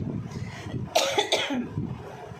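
A woman with a cold coughs in a quick cluster of about three harsh, close coughs after some quiet low background noise.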